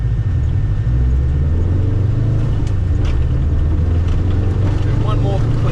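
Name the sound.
rally car driving laps on gravel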